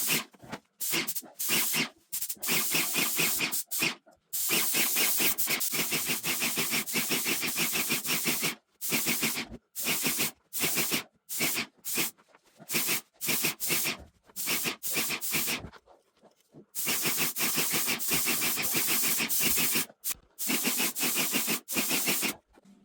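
A paint sprayer puts a second coat on a ceiling, hissing loudly in long continuous bursts broken by brief pauses as the trigger is released.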